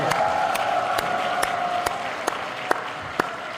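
A church congregation claps and cheers together in a steady, dense wash of applause, with a sustained raised cheer running through it and a few sharper individual claps standing out near the end.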